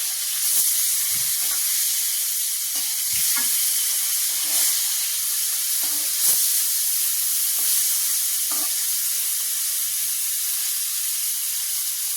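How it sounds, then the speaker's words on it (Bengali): Koi fish fries in hot oil in a wok, making a steady, close hiss and sizzle broken by soft scraping stirs and occasional pops. "মাছটাকে এখন ভালো মতো করে একটু ভেজে নিব।"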